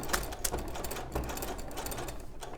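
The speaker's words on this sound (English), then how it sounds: "So I'm just stitching along those short edges, and I'm using a slightly longer stitch because I am using the PU." Sewing machine stitching along the short edges of PU (polyurethane) fabric with a longer stitch, a steady close mechanical hum and rapid rattle with a few brief clicks, no speech.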